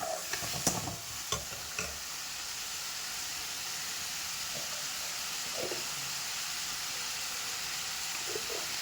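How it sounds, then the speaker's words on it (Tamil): Tomatoes sautéing in a pan, a steady moderate sizzle with a few sharp stirring clinks early on and occasional soft scrapes later. "தக்காளி கொஞ்சம் நல்லா வதங்கட்டும்"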